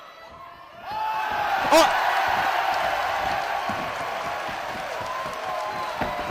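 Wrestling arena crowd roaring and cheering steadily as a sustained wall of noise, with a sharp shout rising briefly from the mix near the start.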